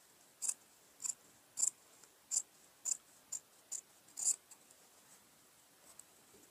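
Scissors trim the seam allowance on a denim jacket body panel, giving eight crisp, evenly spaced snips about every half second, close and moderately loud, then going quiet for the last two seconds with no talking.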